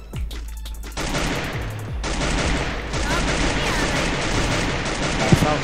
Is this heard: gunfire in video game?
yes